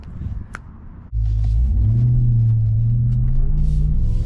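A supercharged Ram TRX pickup truck driving on the road, its engine rising abruptly into a loud, steady, deep rumble that holds close and continuous after a short quieter start.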